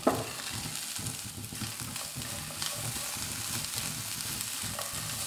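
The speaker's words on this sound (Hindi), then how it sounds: "अब प्याज टमाटर और शिमला मिर्च को हम 2 से 3 मिनट कुक करेंगे ताकि इनका कच्चापन दूर हो जाए।" Chopped onion, tomato and capsicum frying in a pan over a medium-low flame, a steady close sizzle with soft stirring scrapes and no talking.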